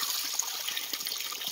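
Water running steadily in the countryside at the edge of a forest, a continuous bright trickling and splashing flow heard close and alone, without any talk.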